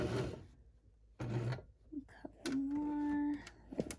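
A Baby Lock Zest sewing machine stitches a pocket seam on a pair of pants in short whirring runs, mixed with nearby handling sounds while a person talks over it.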